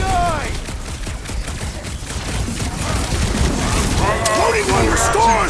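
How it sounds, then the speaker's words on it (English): Rapid gunfire rattles through a Guardians of the Galaxy video game battle, dense and loud bursts mixed with booms and mechanical noise, with characters shouting over the action. "Just need to shoot this one guy!"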